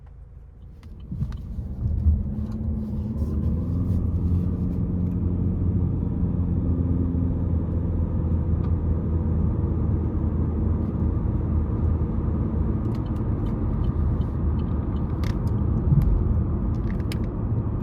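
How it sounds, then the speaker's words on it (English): A 2023 Chevrolet Malibu LT cruises on the road, giving a steady low rumble of engine and tire noise that stays even throughout, with faint clicks scattered on top. "we're gonna go ahead and take this 2023 Chevrolet Malibu LT out on the road for a quick test drive"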